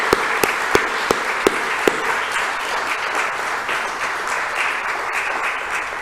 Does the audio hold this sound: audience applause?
yes